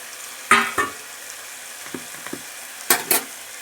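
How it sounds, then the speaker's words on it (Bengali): Potatoes and jute leaves being fried and stirred in a pan, loud scraping strokes of a spatula in bursts over a quiet, faint sizzle. "এবার আমি আলুটা দিয়ে দিচ্ছি"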